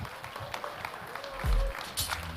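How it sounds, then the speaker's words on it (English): Audience at the React India 2022 conference clapping to welcome a speaker, a moderate patter of hands from a modest crowd, with a couple of louder thumps near the middle and end. "So can we have a loud clap of hands to welcome him,"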